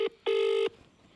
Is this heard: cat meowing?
no